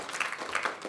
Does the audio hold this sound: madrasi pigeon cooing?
no